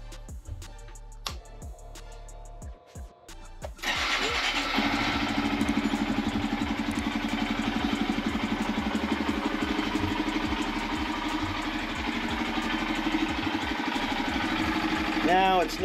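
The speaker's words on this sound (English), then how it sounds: "let's give it a start and we will compare the sounds" A Honda Grom motorcycle engine is started from cold after a few clicks and quiet handling, catching with a burst and settling into a steady, loud, close idle that runs on to the end.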